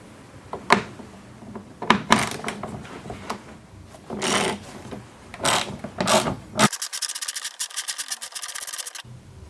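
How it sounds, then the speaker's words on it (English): A 10mm ratchet with an extension works fog light bolts loose on a 2002-2003 Subaru Impreza WRX, making scattered clicks and scraping handling noises, then a fast run of ratchet clicks near the end. "To get the bolts out, 10mm ratchet with an extension."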